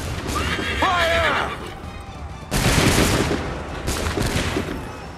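Musket volleys crack out on an Assassin's Creed 3 battlefield, two loud, dense bursts of massed gunfire a second or so apart, preceded by a horse whinnying, with shouted commands in the mix.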